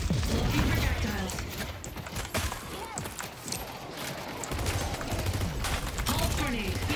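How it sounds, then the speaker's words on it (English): Dense, continuous barrage of projectile launches and impact bursts in a chaotic Deadlock match, loud and layered over busy game noise. "Launching projectiles."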